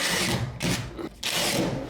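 A power drill drives drywall screws into a bathroom wall panel in two or three short whirring bursts separated by brief pauses, close and loud with no talk.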